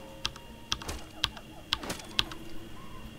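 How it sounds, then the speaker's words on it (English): Typing on a Cooler Master Quickfire TK mechanical keyboard with Cherry MX Red switches: a handful of crisp, evenly spaced keystroke clacks, close and fairly quiet, with faint background hum and no talking. "Cooler Master Quickfire TK keyboard. And it has Cherry MX Red switches on it."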